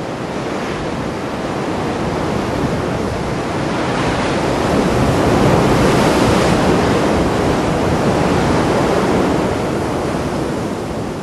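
Ocean surf crashing below a cliff on the Moroccan coast near Akhfenir, a loud, steady roar of breaking waves and foam that swells and eases, mixed with wind against the microphone.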